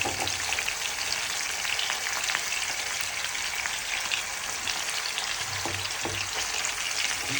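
Trevally (parava) fish frying in a pan gives a steady, close crackling sizzle with scattered pops throughout, no voices.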